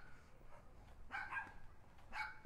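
Two dogs barking back and forth on a street, one joining in after the other, with a few short bursts of barks at moderate distance.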